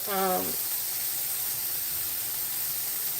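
Shrimp sauté in a hot pan, a steady broadband sizzle and hiss that continues evenly after a brief spoken word at the start.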